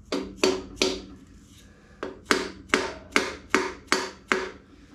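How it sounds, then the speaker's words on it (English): Pistons are tapped into a Chevy 350 engine block being built for a 1949 Chevy pickup: about nine sharp, hard knocks come in quick bursts with short pauses, close and distinct, with no talking. "This is a tedious process, putting pistons in."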